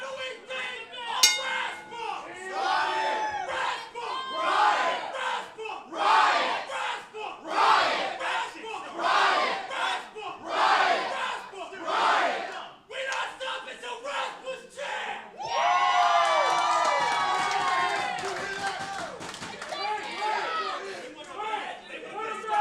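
A lively professional wrestling crowd cheers and chatters, with shouts rising and falling steadily and a louder, denser roar swelling near the end.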